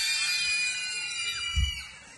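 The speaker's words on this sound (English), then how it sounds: "Scream. Scream real loud." A room of children screaming together loudly on cue at a church group learning session, a sustained shrill wall of voices that fades slightly, with a brief low thump near the end.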